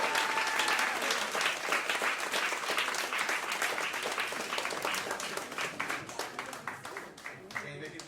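Audience aboard a soul music cruise applauding a singer, steady dense clapping from a crowd that gradually thins toward the end, fairly loud and close.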